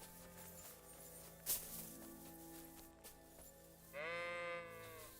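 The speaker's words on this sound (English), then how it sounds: "That was a sheep or something." A sheep bleats in the video game Kingdom Come Deliverance 2, a single wavering call rising over a steady outdoor ambience with soft footsteps and background music.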